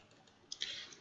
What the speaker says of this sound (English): I'm going to click on new